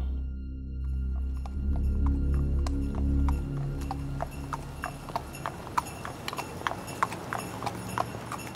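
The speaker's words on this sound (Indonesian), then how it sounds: "Lu tahu kan suara-suara kuda yang pakai lonceng-lonceng itu mungkin kayak suara-suara delman" Rhythmic hoofbeats of a horse pulling a delman-style cart grow clearer after a low rumbling hum, with faint jingling of harness bells over the steady clip-clop.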